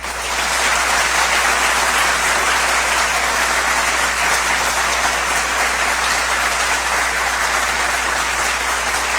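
A university audience at the inauguration of a UNAM Faculty of Law congress, marking its 75th anniversary, applauds honoured guests in dense, loud, sustained clapping that holds steady throughout, with no voices.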